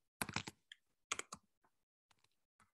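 A computer keyboard typed on during ad layout work: quick bursts of crisp key clicks in short clusters separated by pauses, close and fairly quiet, with no talking.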